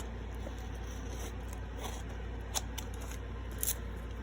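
Scissors trimming excess paper during a papercraft project with wallpaper, rub-ons and masterboards, giving soft snips and light scraping over a steady low background hum, with a few sharper cuts near the end.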